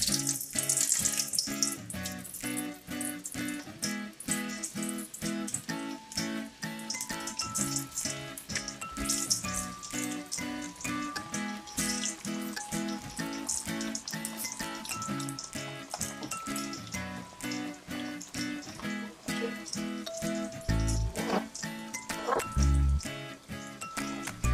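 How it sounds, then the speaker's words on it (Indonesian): Potato pieces fry in oil in a wok for balado, giving a continuous crackling sizzle that stays steady and fairly quiet throughout, with a couple of low knocks near the end and no talk. "Sediakan ini wajan, kasih minyak ya secukupnya. Lalu kita goreng kentangnya ya."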